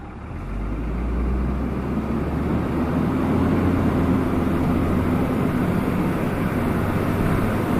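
A truck with a rebuilt 6.7L Cummins diesel and 68RFE automatic transmission driving, heard from inside as a steady low engine drone and road rumble that builds over the first second, then holds continuous.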